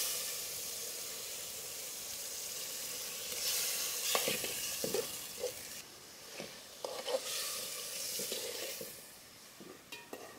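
Pigeon meat sizzles steadily in a hot pan, a constant close hiss that swells louder midway, with scattered scrapes and clacks of stirring in the second half.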